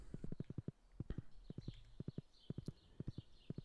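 Horse hooves clip-clop in rapid groups of beats in the Stardew Valley video game, moving at a gallop. The clatter is crisp and rhythmic and sits over faint game chimes.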